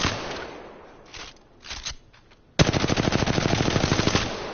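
A light-ammo weapon in Apex Legends fires a fast, evenly spaced automatic burst of loud, sharp shots that starts abruptly after a few quieter handling sounds and keeps going to the end.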